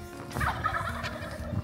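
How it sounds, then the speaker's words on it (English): Wild turkeys gobbling at a distance from trees on a crisp morning in Utah, a few rattling calls over quiet outdoor ambience with low background rumble. "The turkeys are, I think, up in the trees over there. They've been gobbling."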